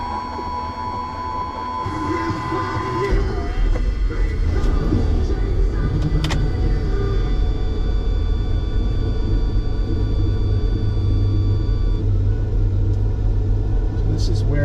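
A 1987 Ferrari Testarossa is driven, with a steady low engine rumble that rises as it pulls away and then holds a constant cabin drone while someone talks over it.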